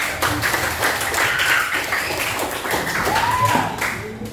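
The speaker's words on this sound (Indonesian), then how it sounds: "Kita beri tepuk tangan nih buat" A school class claps for a pupil, a dense patter of many small hands close by and mixed with children's voices and chatter.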